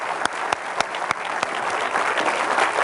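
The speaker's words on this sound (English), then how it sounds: "let's have a big hand for Garrett" Audience applause at a wealth-building seminar: steady clapping from a crowd, moderately loud and sustained throughout, with a few sharper individual claps standing out and no speech over it.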